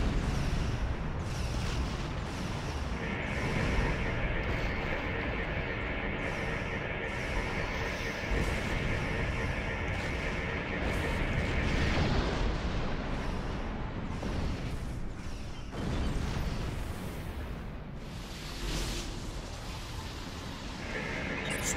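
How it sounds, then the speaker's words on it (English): Plasma lance firing from a station in the Star Trek Online space game, a long, sustained rumbling energy roar with booming, crackling bursts and a brief humming tone, loud and continuous throughout. "Firing station plasma lance in"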